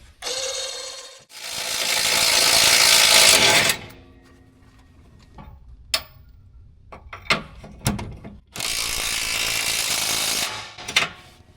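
Bursts of a loud power tool whirring while loosening nuts during an Air Lift LoadLifter 7500XL air spring installation, with metallic clanks and clicks between them, then another long burst of the tool running.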